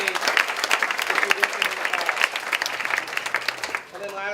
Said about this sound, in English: give another big hand to Natalie and her family